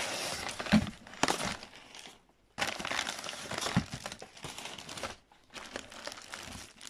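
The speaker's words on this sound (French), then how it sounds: "Alors voilà le déballage." Plastic and cardboard packaging for a G-Con 45 light gun crinkles and rustles in close, bursty handling, with short pauses between bouts of crumpling.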